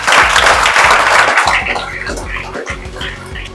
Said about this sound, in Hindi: तो एक बार अपने लिए तो ताली बजा लीजिए आप लोग